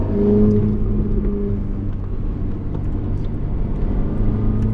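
A Ferrari engine accelerates hard on a wet race track at Mondello Park, a loud, close, sustained drone that holds steady under power, with no talking.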